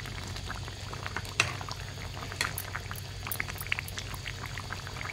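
Fish curry broth simmering in a pan, a low steady bubbling with scattered pops and a sharp clink near the start, no voices.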